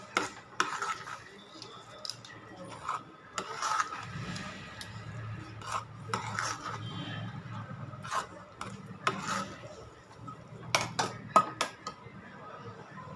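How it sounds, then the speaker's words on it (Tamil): Spoon scraping and stirring Chettinad moong dal sweet (ukkarai) in ghee in a pan, with repeated soft scrapes and occasional sharper knocks of utensil on metal, steady and close. "இந்த மாதிரி நெய் பிரிஞ்சல் வர அளவுக்கு நம்ம இதை நல்லா கிண்டிகிட்டே இருக்கணும்"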